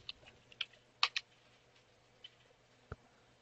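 Keystrokes on a computer keyboard as a Linux terminal command is typed, a few scattered clicks with short pauses between them, close and fairly quiet with no talking.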